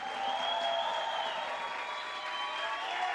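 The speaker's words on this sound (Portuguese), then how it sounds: "Aplaude com alegria." A crowd at a church men's gathering applauds with cheering mixed in, a faint, distant wash of clapping heard at low level throughout.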